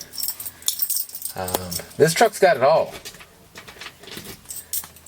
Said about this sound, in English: Actual old school International Harvester keys